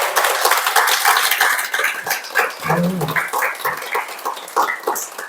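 A meditation camp audience at a Korean Buddhist Ganhwaseon dharma talk bursts into applause: dense, close clapping that holds steady for several seconds, then thins out into scattered claps.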